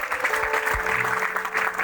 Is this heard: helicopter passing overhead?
no